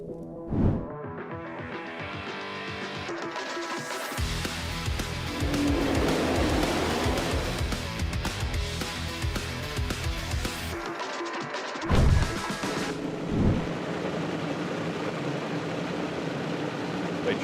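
Nitro top fuel and funny car drag racers at an IHRA Outlaw Nitro Series event in Hebron, a loud sustained roar thundering down the track for several seconds, then fading, with sharp bangs and crackles near the end.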